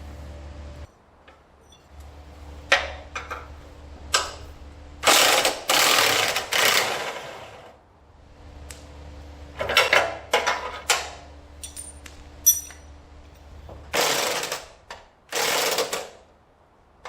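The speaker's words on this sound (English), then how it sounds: "So we'll start busting the bolts off of these bumper brackets." Ratchet wrench working the bumper bracket bolts on a 1964 Ford Thunderbird, with bursts of rapid clicking ratcheting and metallic clanks separated by quieter pauses, close by and without talk.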